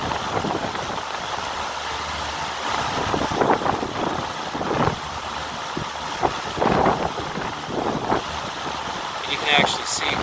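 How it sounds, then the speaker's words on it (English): Outdoor breeze buffets the microphone with steady broadband wind rumble and gusts during a solar-powered fan versus AC fan comparison, with a person talking over it. "Now there is a breeze, and that is playing havoc in the measurement"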